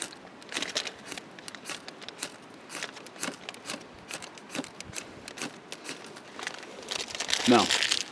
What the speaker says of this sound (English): Remove a nickel-sized piece of putty, rip apart exposed fiber.